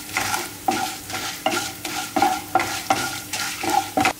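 Chana dal and urad dal sautéing in a little oil, a spatula sweeping the pan in a steady rhythm of about two strokes a second over a soft sizzle, close and clear with no talking.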